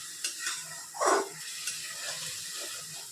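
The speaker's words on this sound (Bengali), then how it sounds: "এই সরষেটাকে আমি একটু হালকা করে ভেজে নেব" Mustard being lightly fried in a pan for a red amaranth chorchori gives a soft, steady sizzle, with one brief louder scrape or stir burst near the middle.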